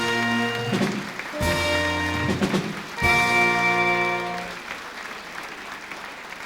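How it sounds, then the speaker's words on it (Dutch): Audience applause at a Dutch carnival sitting evening in Horst, steady clapping from the hall heard under loud festive music with brass-like sustained tones. "Geniet van het applaus."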